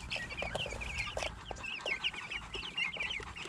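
A flock of geese honking and cackling nearby, with many busy, overlapping calls that keep going without pause.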